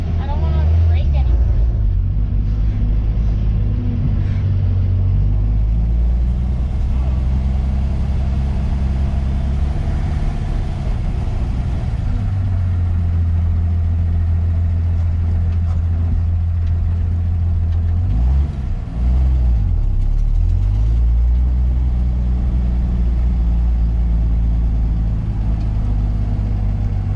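A 1964 Plymouth Belvedere's engine is revved loudly close up, a deep throbbing rumble that rises and falls across the stretch, with speech audible over it.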